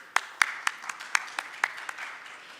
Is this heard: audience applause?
yes